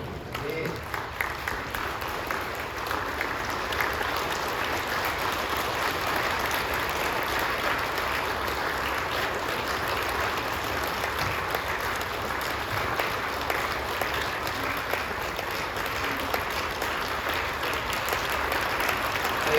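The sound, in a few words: congregation applauding during a Christmas sermon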